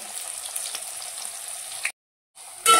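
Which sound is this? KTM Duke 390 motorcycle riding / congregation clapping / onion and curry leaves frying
onion and curry leaves frying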